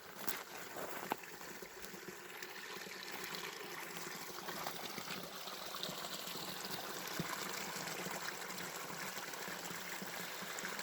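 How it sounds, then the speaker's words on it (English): Snow-runoff mountain stream rushing steadily a few feet away, a continuous broadband wash of flowing water with no talking. "I'm only literally a few feet from a stream. And that's just snow runoff coming down."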